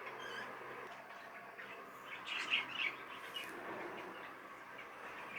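Finches and Fife canaries chirp in an aviary flight, a steady wash of faint, overlapping small-bird tweets with a brief louder cluster of calls in the middle.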